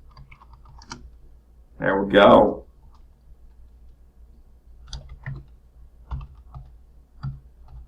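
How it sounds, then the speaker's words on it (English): Keys clack on a computer keyboard while configuring GRE over IPsec tunnels in Packet Tracer, with scattered light taps around a brief spoken phrase, close and fairly quiet. "Save yourself some typing."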